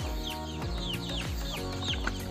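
Native Visayan chickens cluck over steady background noise in the Philippines, a series of short repeated calls in an irregular rhythm from several birds nearby.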